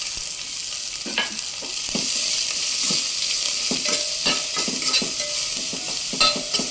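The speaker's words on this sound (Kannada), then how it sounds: "ಇದೆಲ್ಲದನ್ನು 2 ನಿಮಿಷ ಚೆನ್ನಾಗಿ ಫ್ರೈ ಮಾಡಬೇಕು" Onion frying with coriander and salt in ghee for ghee rice sizzles steadily under repeated close scrapes and clinks of a spoon stirring the pan, with no talking.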